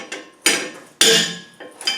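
A hammer strikes metal three times at an uneven pace, each sharp ringing tap decaying quickly, close and loud.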